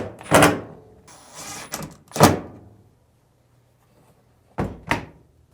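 A Samsung dryer door is set in place on the chassis during a belt switch repair, producing a few close, separate knocks and thunks with short pauses between them and no speech.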